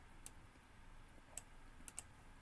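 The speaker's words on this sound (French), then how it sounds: "je vais tout sélectionner avec la touche CTRL de mon clavier" A computer keyboard gives a few faint, sparse clicks, with single key presses spaced across about two seconds over a quiet room hiss.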